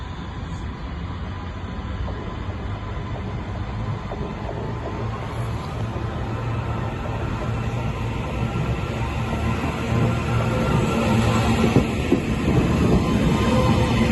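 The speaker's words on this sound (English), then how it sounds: "the next train to depart is going to be the 1341 Trans-Pennine Express service to Liverpool Lime Street." A TransPennine Express train pulls out of Carlisle station with a steady, loud rumble and mechanical hum that builds gradually and continues without a break.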